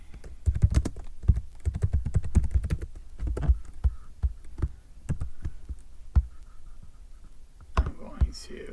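Someone typing a git clone command on a computer keyboard, producing rapid close key clicks in bursts that thin out into a few scattered taps.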